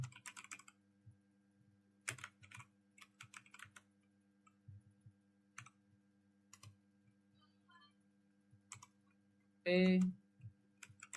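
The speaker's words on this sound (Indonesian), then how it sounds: "Jangan sampai salah ketik" Scattered keystrokes on a computer keyboard, soft irregular clicks and short bursts of typing under a faint hum, with a brief loud tonal beep near the end.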